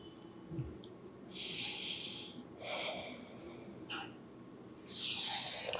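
Slow, deep breaths drawn in and let out during a yoga session for back pain, several soft airy inhales and exhales with pauses between, fairly close and quiet, no talking.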